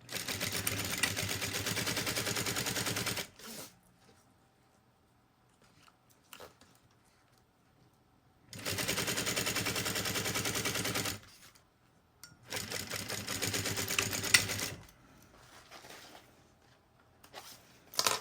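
A sewing machine stitches across a zipper and its lining in three steady runs of a few seconds each, separated by quiet pauses with small handling noises.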